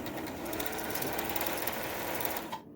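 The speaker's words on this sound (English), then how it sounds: "this motor moves high speed" A Singer Touch Tronic 2001 computerized sewing machine runs its motor at high speed, a steady dense whir that holds level for nearly three seconds before cutting off abruptly near the end.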